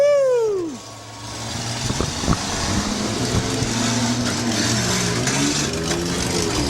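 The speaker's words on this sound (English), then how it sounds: "Samples getting his car refired, but that motor don't sound too good" A demolition derby car's battered motor refires and runs rough, a low uneven engine drone holding steady after a brief falling whine, near and fairly loud.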